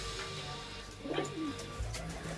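Pigeons at a loft give a few soft coos, one clear call near the middle over a steady low background hum, with no talking.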